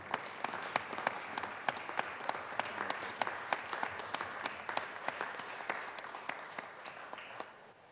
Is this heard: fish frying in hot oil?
no